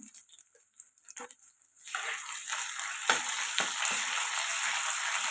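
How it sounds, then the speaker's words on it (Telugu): Ginger garlic paste dropped into a pan of frying onions, with a few quiet clinks before a steady loud sizzle takes over and continues, close up and with no talking. "ఇక్కడ వచ్చేసి అల్లం వెల్లుల్లి పేస్ట్ వేసుకుందాం."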